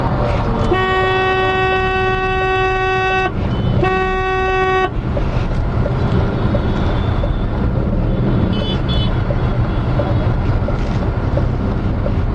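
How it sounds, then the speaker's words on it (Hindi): City traffic heard from inside a moving Tata Nano: constant loud road and engine rumble, with a couple of long car horn blasts near the start and a brief beep later. "अभी भी देखो ट्रैफिक था पर अपने फटाफट निकल गए।"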